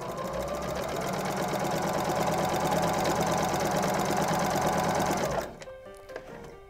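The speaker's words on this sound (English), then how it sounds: "Sew to the other corner." A sewing machine stitches fabric for an apron in one continuous, loud, buzzing run that stops abruptly near the end, leaving a quieter room with faint clicks.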